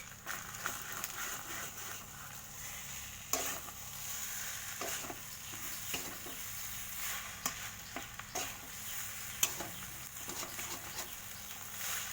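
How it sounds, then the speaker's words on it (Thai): Food stir-fried in a pan, a faint steady sizzle with scattered soft scrapes and taps of the utensil over a long stretch, fairly distant and quiet, with no talking. "แล้วก็ผัดไปเรื่อยๆ นะคะ"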